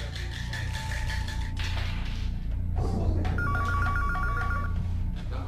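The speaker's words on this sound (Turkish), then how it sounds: "Telefon çaldı." A telephone rings in short repeated bursts over a steady low background hum, with no one speaking.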